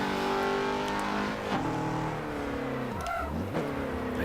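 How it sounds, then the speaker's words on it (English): Car engine and tire noise from the Forza Motorsport 7 racing game, a steady loud motor drone with pitch sweeps and a brief squealing slide near the end, with no talk. "Like the tire squeal is kind of weird."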